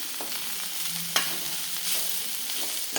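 A spice paste sautés in a pan with a bright, steady sizzle, one sharp clink of the spoon partway through, and a swell of hissing as it is stirred, with no voices.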